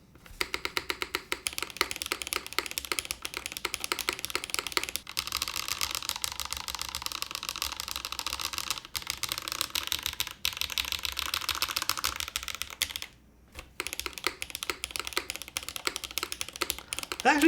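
Steady, dense typing on a top-mount mechanical keyboard fitted with a clickable OLED button, close and clear, with rapid continuous keystrokes, a brief pause near the end and no talking.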